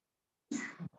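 One short, sharp sneeze, close and abrupt after silence, with a brief trailing breath.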